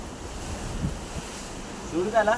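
Arabian Sea waves wash against the shore at Harihareshwar beach near Shrivardhan, a steady surf rumble with gusty wind on the microphone, and a voice briefly cuts in at the end.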